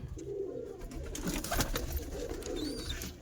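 Pigeons, Madrasi and local breeds among them, coo low and throaty in a loft, with overlapping murmuring calls heard up close, steady and moderate in level, with no voices.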